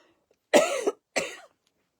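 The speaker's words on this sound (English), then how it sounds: "Excuse me 1 minute, I need to cough." Two separate coughs from one person at close range, each a short harsh burst with a brief pause between them, heard alone in a quiet room during a craft session making styrofoam watermelon slice decor.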